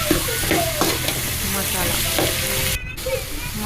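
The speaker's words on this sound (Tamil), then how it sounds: "உப்பு சேர்த்துட்டு அது நல்லா மறுபடியும் 1 நிமிஷம் வணக்குங்க" Vegetables with salt being stirred and sautéed in a hot pan, a steady sizzle broken by repeated scraping stirs of a spatula, close up with no talking.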